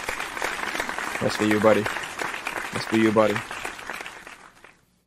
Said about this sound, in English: You just get like a clap and some pride.